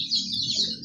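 Young Adler breed chicks peep in a dense, high-pitched chorus, a brief continuous chirping from several birds close by with no voices.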